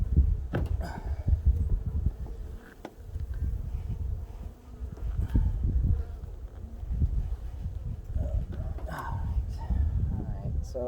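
Honeybees buzzing steadily and close around an open hive during a September beehive inspection, a dense continuous drone with soft frame and handling noises, and a person speaking intermittently over it.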